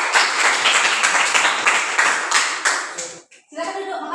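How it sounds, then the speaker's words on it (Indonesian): A classroom audience gives a student a round of applause after a presentation, with dense, steady clapping for about three seconds before it breaks off and a voice starts. "silakan beri aplaus lagi untuk Alif."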